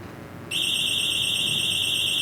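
UniFi PoE SuperLink security siren set to 10% volume sounds a steady, piercing electronic alarm tone that cuts in after a brief quiet moment and continues evenly, clear and fairly close, with no talking.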